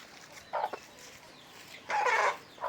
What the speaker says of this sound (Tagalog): Inubo yung isang manok pero ginagamot ko na yan guys